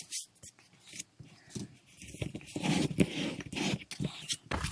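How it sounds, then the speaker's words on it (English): Cardstock scored for a card base is folded and burnished along the crease on both sides, giving soft rubbing and scraping strokes at close range, with talking over parts of it. "And I'm going to fold and burnish that."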